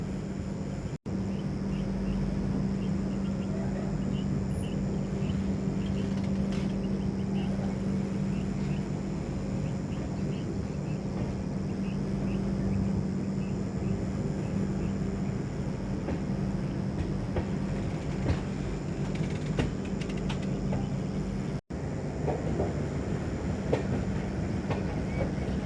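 An EMD diesel locomotive hauls an express train, its steady engine drone and rolling rail noise continuous and moderately loud, mixed with wind buffeting against the microphone.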